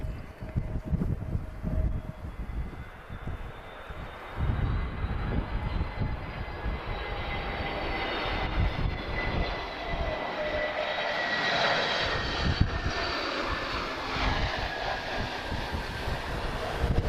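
A Ryanair airliner arriving at Lisbon Airport, its engines building a steady, rising roar with whining tones that grows louder and nearer over the span, heard alone without talk.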